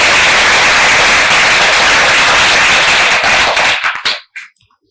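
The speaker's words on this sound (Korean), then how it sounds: "수고했다고 여러분 동료의 박수 부탁드립니다" Retreat attendees at a church summer evening gathering give a burst of loud, dense applause that carries for about four seconds, then breaks into a few scattered last claps and stops.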